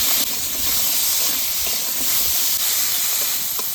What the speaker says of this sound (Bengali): এবার আলু একটু ভেজে নেব